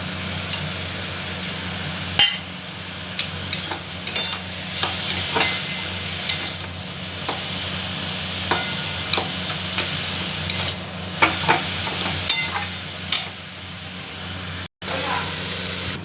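Crumbled lentil dumplings frying in an ash gourd curry in a pan, a soft steady sizzle with frequent clicking and scraping stirs spread through, close and moderately loud.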